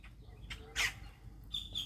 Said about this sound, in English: here's all the birdies at the bird feeder. You can see them all there hooting and hollering